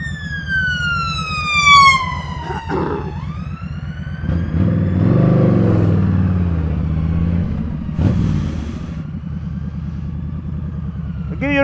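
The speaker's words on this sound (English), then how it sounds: "Ambulance." An ambulance siren wails in repeated rising and falling sweeps, loud and close at first and then fading, heard from a big cruiser motorcycle filtering through traffic, with engine rumble underneath and a brief voice.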